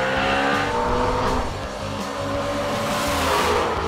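A Ford Shelby GT350 drives on the Laguna Seca race track, its engine roaring loud and close in a sustained, throaty drone that rises and dips slightly with revs, with no talking.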